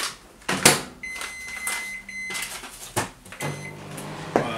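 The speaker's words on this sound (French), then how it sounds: "Je vais faire fondre le beurre dans le micro-ondes." A microwave oven melts butter in a home kitchen as pancakes are being prepared: a steady hum, a few sharp clicks and knocks as the door and controls are used, and a brief tone near the start.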